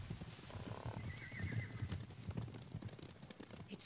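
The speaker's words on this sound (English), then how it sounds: "Horses, they're coming for us." Horses approach in the video game Ghost of Tsushima, hooves clip-clopping in a steady beat with a whinny partway through, moderately near over a quiet background.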